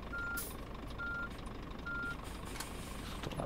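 A truck's reversing alarm in the On the Road driving game sounds three evenly spaced, steady beeps over a low rumbling engine idle.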